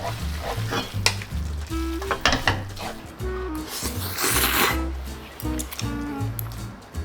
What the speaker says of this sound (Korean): 잘 버무려줍니다